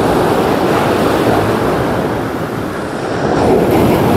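Strong water waves at Dumaguit Port make a loud, continuous wash and roar of surf. The sound is close and unbroken, with no voices over it.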